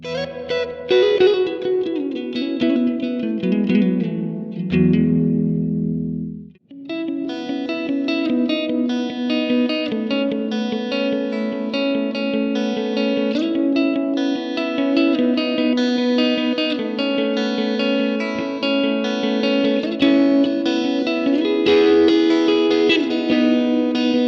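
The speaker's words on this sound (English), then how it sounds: "So that's the reverb, and I like it." Electric guitar played through a VOX AC30 amPlug 2 headphone amp with heavy reverb and chorus, sustained chords ringing out and washing together, a brief pause midway before playing resumes.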